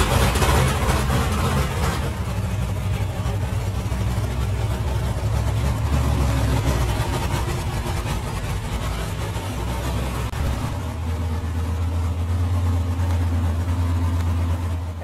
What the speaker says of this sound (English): This is my 1957 Corvette.